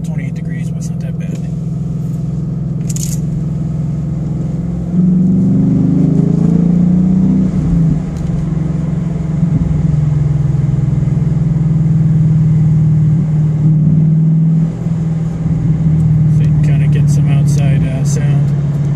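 A 2015 Ford Mustang GT with Magnaflow Street exhaust and an FRPP X-pipe rumbles loudly on a cold day, a deep steady engine drone swelling as it revs, heard close from inside the car.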